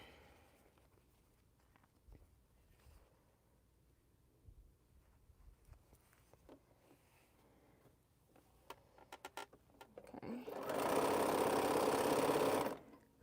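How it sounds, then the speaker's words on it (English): Sewing machine stitching scattered-star quilt block units, heard after a long quiet stretch of faint handling and clicks as a loud, steady two-second buzz near the end. "I'm just sewing the units."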